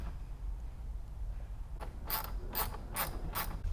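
A driver ratcheting T25 Torx screws into golf cart dash trim gives four quick bright clicking bursts in a row, close, over a steady low hum.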